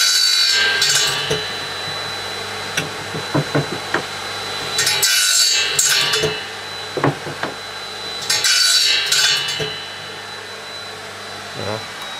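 A wooden edge being chamfered with a hand tool: rhythmic rasping strokes and light knocks near the work, over a constant machine hum, with no talk.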